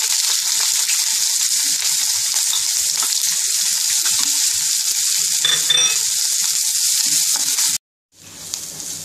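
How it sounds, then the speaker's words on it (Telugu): Sliced onions with curry leaves and green chillies sizzle hard in a spoonful of hot oil for fish curry, a loud continuous crackling hiss close up with occasional stirring that cuts off abruptly near the end, then fades back in softer. "ఉల్లిపాయలు బాగా వేగి బ్రౌన్ కలర్ రావాలి."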